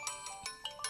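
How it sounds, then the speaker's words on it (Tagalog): A cellphone ringtone plays a bright, repeating electronic melody of short chiming notes, moderately faint and heard alone. "Itay pa'y ngagriring ti cellphone ni Limuel."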